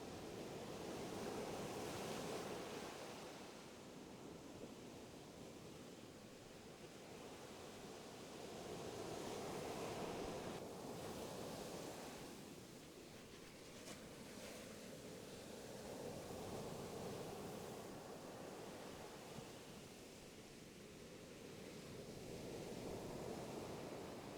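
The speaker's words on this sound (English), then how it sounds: "Listen the sound of the waves." Ocean surf rolls in and washes back in slow, steady swells, a continuous wash of waves with no voices.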